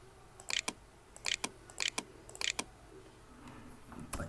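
A date and a city name are typed into a Microsoft Word reference entry on a computer keyboard, in several quick bursts of crisp keystrokes with short gaps, close and without talk.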